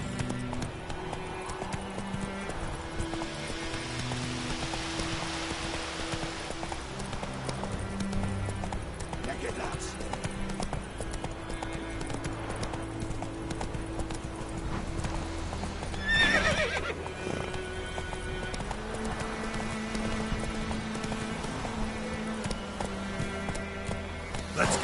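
A horse in The Witcher 3 gallops with rhythmic clip-clop hoof beats and a whinny, steady and prominent over a game music bed, with no talking.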